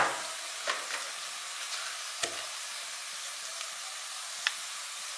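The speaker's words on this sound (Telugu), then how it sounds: "అల్లం వెల్లుల్లి వేగింది" Ginger-garlic paste with turmeric fries in a pan, giving a steady soft sizzle and hiss broken by a few faint clicks of stirring, with no voices.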